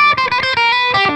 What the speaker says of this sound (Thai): ก็เดี๋ยวจะลองมาเล่นเสียงแตกนะโดยจะเปิดแตกแบบไม่เยอะก่อนนะครับ